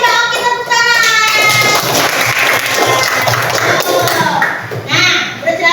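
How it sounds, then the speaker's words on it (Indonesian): Children's classroom applause during an Islamic religious education lesson in Indonesia, with steady clapping for several seconds mixed with kids' chatter and shuffling thumps. "tepuk tangan"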